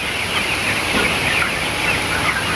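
Broiler chickens cluck softly and steadily in a poultry house during winter rearing, a dense, continuous flock murmur heard on its own without voices.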